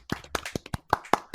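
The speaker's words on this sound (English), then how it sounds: "Golf clap." A golf clap: seven light, evenly spaced hand claps in a steady rhythm, close and fairly soft, with no talking.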